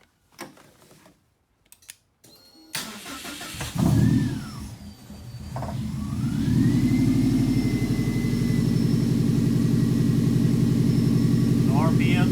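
A car engine starts and settles into a steady idle near 1400 RPM, a loud continuous low rumble that fills the rest of the clip after some brief clicks and handling noises; a voice is heard faintly early on.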